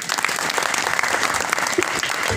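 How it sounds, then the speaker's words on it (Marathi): An audience at a kirtan claps in a dense, sustained burst of applause, loud and close, with no talking over it. "वाजा टाळी वाजा"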